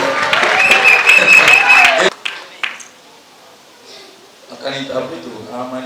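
Church congregation applauding loudly for about two seconds, a dense wash of clapping with voices mixed in, then breaking off into quieter scattered sounds and murmuring talk.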